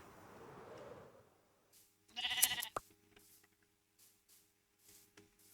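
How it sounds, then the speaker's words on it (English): A single sheep bleat from Minecraft rings out briefly and fairly clearly mid-clip, set against quiet game ambience with a low rumble at the start and faint scattered ticks afterward. "There's a sheep."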